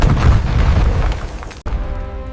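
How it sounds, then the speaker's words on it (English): Deep rumbling booms of artillery explosions shake an underground bunker, a loud low roar that drops out abruptly for an instant before another heavy blast rolls in. "Even underground, the bunker shook from constant artillery fire."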